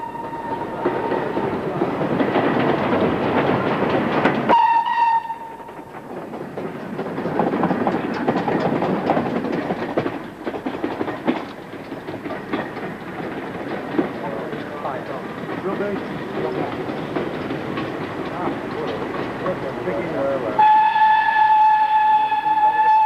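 Steam freight train of the Great Western Railway, a Swindon-built 1918 locomotive, running on rails with a steady rumbling clatter throughout, bracketed by brief sustained whistle-like tones near the start and end.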